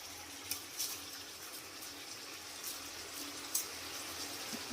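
Rice being rinsed in water, a soft continuous trickle and swish close by with a few small splashes, quiet throughout.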